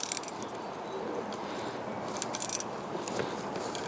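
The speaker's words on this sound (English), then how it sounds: "let's use a socket." A socket wrench ratchets on the drivetrain of a Land Rover Freelander 2, a close, faint series of small clicks in short bursts against a quiet workshop background.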